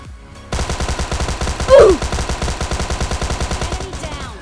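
Automatic gunfire from a PUBG Lite game comes in a long, rapid, evenly spaced burst, loud and close, with a brief louder impact partway through.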